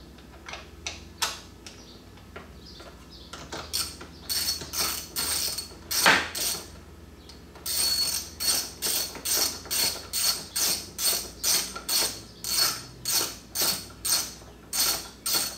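A ratchet tightens a 10 millimeter bolt at the center of a 2018-or-later Roush F-150 grill, a few scattered clicks at first, then a long run of regular rapid ratcheting strokes, close and crisp.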